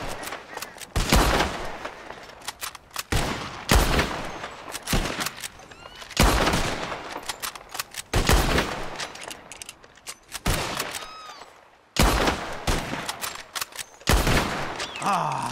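Rapid bursts of gunfire in Red Dead Redemption crack out in clustered volleys, loud and close, separated by short pauses, with echoing tails between salvos.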